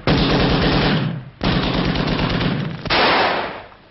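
Loud, sustained machine gun fire from a 1943 submarine war film, with long continuous bursts broken by two brief pauses, close and dense with no talk over it.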